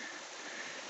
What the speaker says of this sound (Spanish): Estas son las cascadas.